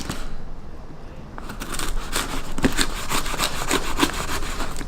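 Scissors cut and tear through a cardboard shipping box, giving a run of scraping, rustling snips and crinkles that grow louder and busier after a quiet start, close to the listener.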